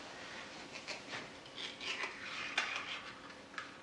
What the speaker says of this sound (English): Using a butter knife, you'll be able to get most of it out of the can right on your first shot.